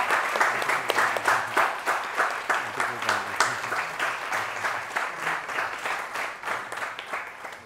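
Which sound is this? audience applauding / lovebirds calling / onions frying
audience applauding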